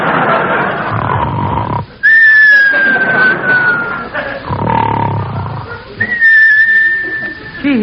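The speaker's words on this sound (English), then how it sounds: "Now come the whistles." Comic whistle effects from an old-time radio comedy: two loud, long descending whistles, each sliding slowly downward, separated by rumbling, roaring noises.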